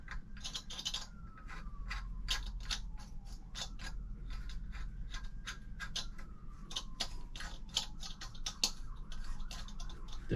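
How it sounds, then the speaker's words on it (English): Faint, close clicking and ticking come from a shower head being screwed onto its fitting, with rapid irregular threading clicks and light creaks throughout and no speech. "Screw it on a little bit more."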